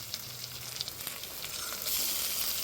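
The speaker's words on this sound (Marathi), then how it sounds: "आता आपण परत एकदा वांगी पलटून घेऊया." Stuffed eggplants fry in a little oil with a soft, continuous sizzle, broken by a few light scrapes and taps as they are turned over in the pan. The sizzle builds slightly louder toward the end.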